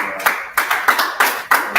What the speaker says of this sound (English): Please, I want us to clap so that we know.